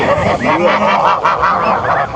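A small flock of farm geese honk loudly and close by in a string of harsh, overlapping nasal calls, with no talk over them.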